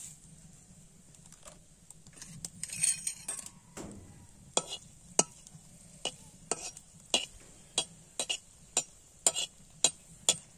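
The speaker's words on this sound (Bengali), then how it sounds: "ঝালটাকে লাল লাল করে ভেজে নিচ্ছি" Red chilies frying in a pan over a wood-fired clay stove while being stirred, a steady sizzle under a dozen or so sharp, evenly spaced scraping clinks of the spatula against the pan, with no talking.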